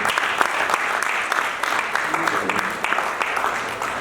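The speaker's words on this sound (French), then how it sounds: "si on peut les applaudir," An audience at a kickboxing event in Senegal applauds, with dense, sustained clapping from a crowd that stays steady and fairly loud throughout.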